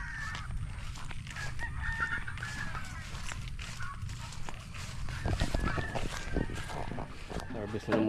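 Backyard chickens clucking and a rooster crowing during feeding time, a busy, steady flock din close by with rustling and scattered sharp calls, and a person talking in the background.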